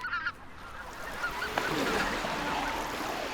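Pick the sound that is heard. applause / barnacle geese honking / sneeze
barnacle geese honking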